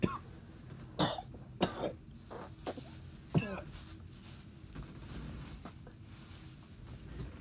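Several harsh, phlegmy coughs and a throat clearing from someone recovering from an upper respiratory infection come in short bursts, close and fairly quiet, separated by pauses with faint background noise.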